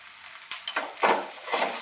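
A spatula scrapes and taps against a pan as peanuts are stir-fried with salt, giving a few brisk metallic strokes over a faint sizzle.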